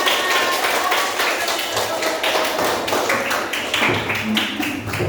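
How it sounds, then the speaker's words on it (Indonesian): A classroom of children claps hands together, a dense, busy patter of claps with a few thuds, lasting several seconds with faint voices mixed in. "Oke, tepuk tangan semuanya."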